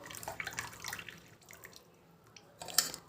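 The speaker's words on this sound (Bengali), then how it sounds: "একটা বাটি আর একটা ছেঁকনি নিয়ে নিয়েছি, এবার আমি এটাকে ছেঁকে নিচ্ছি।" Boiled kalonji and onion water strained through a sieve into a bowl: soft trickling and dripping that fades to scattered faint drips, ending in one brighter splash, with no talking.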